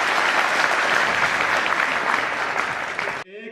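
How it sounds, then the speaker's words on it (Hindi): Loud, dense applause from a large audience at a Hindi talk event, continuous clapping filling the hall before cutting off abruptly near the end as a voice begins singing. "एक बार जोरदार तालियों से आमंत्रित करते हैं"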